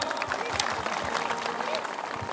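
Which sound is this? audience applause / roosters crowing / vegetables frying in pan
audience applause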